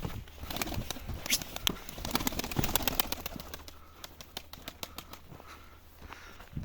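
A young Turkish tumbler pigeon flaps its wings in a run of quick, sharp, papery beats close by, with other birds cooing and calling around it.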